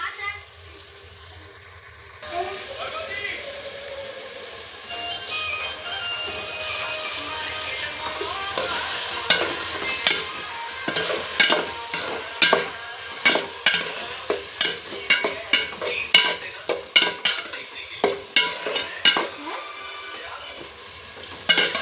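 Spices for a tempering sizzle in a hot pan with a rising frying hiss, then rhythmic scraping strokes as they are stirred, loud and close.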